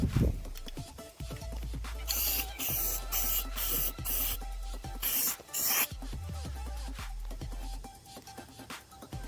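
Spray paint hisses in several close bursts of a few seconds each onto a transmission brace, with brief gaps between passes.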